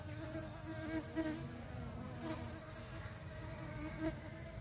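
Honeybees hover around a hive frame, producing a continuous, fairly soft buzzing hum that swells slightly now and then, with no one speaking.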